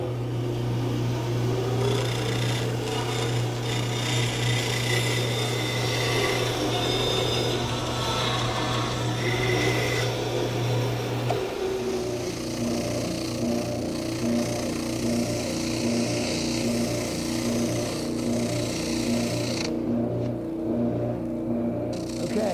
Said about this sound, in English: So now we got to translate our pattern and bandsaw it out on the pattern